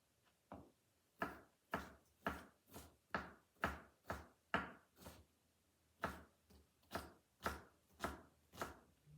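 Knife chopping ingredients for Texas caviar on a cutting board: about sixteen crisp, evenly paced strikes, close and clear, with a short pause midway and no talking.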